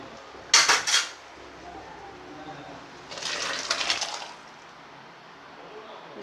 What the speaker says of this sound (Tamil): இந்த ஸ்டேஜில் நம்ம இந்த காய்கறியை தூக்கி அதில் கொட்டிடுவோம்.